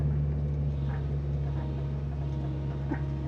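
Excavator engine runs at a steady, loud, low rumbling idle while the machine shakes, close and continuous with no break.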